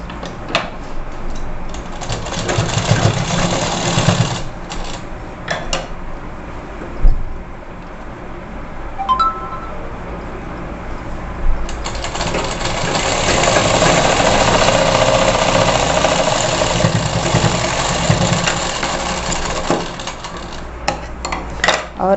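An electric sewing machine stitches a net blouse, a steady mechanical whirring hum in long close runs broken by short pauses, with light clicks between bursts.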